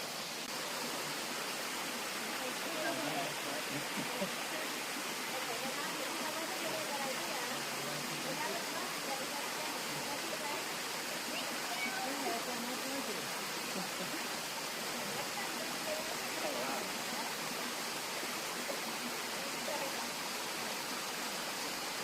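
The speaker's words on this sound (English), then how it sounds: "This is Cascade Falls, and it's got a beautiful pool for people to wade in and stuff." Cascade Falls, a woodland waterfall spilling into a wading pool, gives off a constant, even rush of falling water that fills the whole scene at steady loudness.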